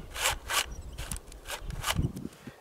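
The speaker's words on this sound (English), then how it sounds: "Run the chain." A 4-inch mini chainsaw's chain is pulled around the bar by hand, giving a series of rhythmic, raspy ratcheting strokes, about five or six back-and-forth pulls, close and moderately loud with no talking.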